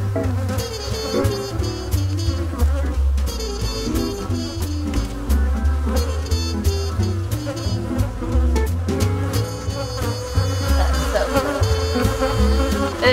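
Honeybees swarm around frames pulled from the honey supers during a honey harvest, a loud, close, continuous buzzing hum that wavers in pitch throughout, with no voices.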